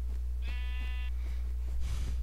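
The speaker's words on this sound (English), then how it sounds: "Come here, sheep!" A sheep in a snowy Minecraft world gives one clear, tonal bleat, followed by softer game sounds over a steady low hum.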